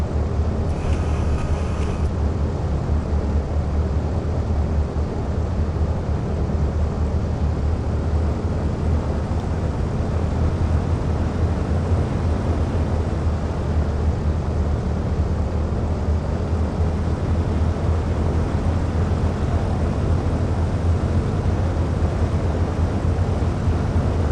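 A Piper light aircraft taxiing to the runway on a clear winter day gives a loud, steady engine drone that holds unchanged throughout.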